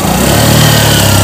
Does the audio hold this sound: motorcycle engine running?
yes